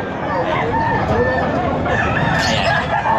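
A rooster crows among clucking chickens kept by a backyard owner, the call rising clearly over a busy farmyard background with people talking nearby.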